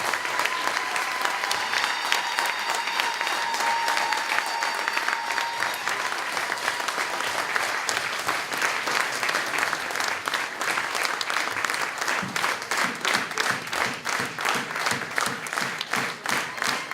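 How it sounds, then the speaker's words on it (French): Sustained audience applause fills a rally hall in support of political prisoners, dense steady clapping from a large crowd lasting throughout, loud and close with no talk over it. "je vous demande d'applaudir"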